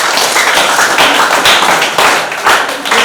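An audience claps hands together after a schoolgirls' presentation on HIV and AIDS, a close, loud, steady patter of many overlapping claps throughout.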